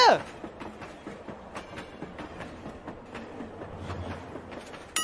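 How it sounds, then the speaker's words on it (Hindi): A train rolls past with a steady clickety-clack of wheels over rail joints, fairly close and sustained throughout, with a brief voice at the very start. "वो देख हम लोग का ट्रेन आ रहा है"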